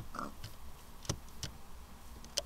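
A pig in a video game gives a couple of brief, faint oinks over a steady ambient game background, with short isolated clicks scattered between them.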